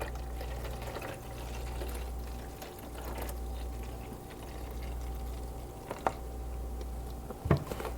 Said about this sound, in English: basically add as much water as you add stock.